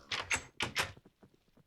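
A door opening in the Minecraft video game: two quick, close, clattering wooden-sounding bursts in a row, followed by faint, soft clicks.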